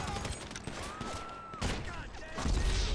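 Rapid pistol fire from enemy attackers during an ambush in GTA 5 Online, bursts of shots clustered together and layered over game noise, with someone talking over the shooting.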